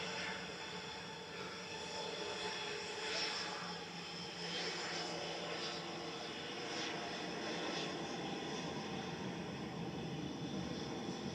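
A Sun Express jet airliner departs Manchester Airport, its engines a steady, distant broadband roar that holds at an even level throughout.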